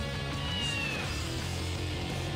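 A cartoonish cat meows in the futuristic racing video game F-Zero GX, heard as a short wavering cry over continuous game music and engine drone.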